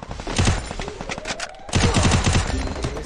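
Rapid bursts of video game gunfire crackle in two dense volleys separated by a brief lull, loud and close, with no talking.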